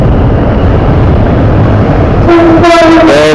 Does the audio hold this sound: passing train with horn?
yes